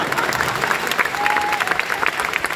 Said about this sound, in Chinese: Everybody Robin Seafood 掌声鼓励。